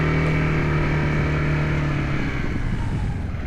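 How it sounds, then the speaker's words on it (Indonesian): A motorbike engine runs steadily and loud up close with wind noise, its hum holding then dipping slightly as the rider slows, with no talk over it. "Oke, sekarang kita pakai motor dulu."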